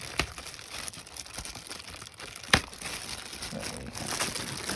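Adhesive tape peeling and crinkling off new aftermarket speakers during a 1999-2003 Chevrolet Silverado crew cab speaker swap, a continuous close rustle with a sharp tearing snap midway.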